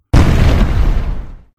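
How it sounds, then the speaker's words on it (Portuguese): A heavy explosion in a horror narration, one sudden loud boom that hits full force at once and rolls on as a dense rumble for over a second before cutting off, with no voice over it. "E então veio a explosão."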